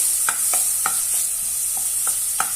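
Onion and garlic frying together in a pan, a steady hiss of sizzling oil with intermittent scraping clicks from stirring, close and fairly loud, with no voices.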